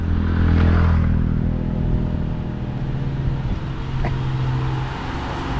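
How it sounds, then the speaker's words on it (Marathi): A vehicle engine labours up a steep uphill road on a rainy forest trip in Konkan, a loud close rumbling drone that strains and shifts in pitch as it climbs, with rattling clatter over it. "गाडीचा आवाज बघा चढ आहे"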